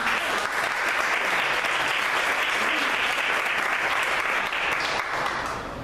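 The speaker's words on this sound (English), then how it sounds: "big round of applause" Applause from a SheTalks 2021 audience welcoming a sponsor to the stage, a full, sustained roar of clapping that holds steady for several seconds before starting to taper at the end.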